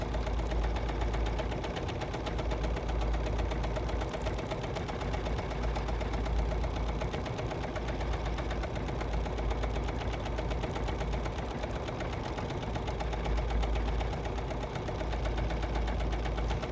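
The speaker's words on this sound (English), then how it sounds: "as I stitch this, I want to make sure that I keep the side of my material parallel to the side of my presser foot" A BERNINA sewing machine stitches fabric in a continuous, even, fast mechanical whir that holds steady throughout, close and alone with no talk.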